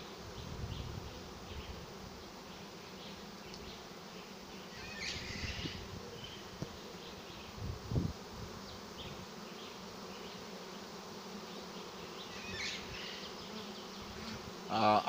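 A honey bee swarm, two swarms at once, moves into a swarm trap outdoors, a steady faint buzzing drone with occasional closer passes and a few soft bird chirps in the background.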